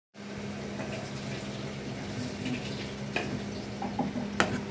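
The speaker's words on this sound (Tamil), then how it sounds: "அப்பப்போ எடுத்து நல்லா இது மாதிரி கலரி விட்டுக்கிட்டே இருங்க இல்லைன்னா அடி பிடிக்கும்" Mushroom gravy masala being stirred in a pan, a steady moderate sizzle with occasional spoon scrapes and clinks against the metal, fairly quiet and continuous.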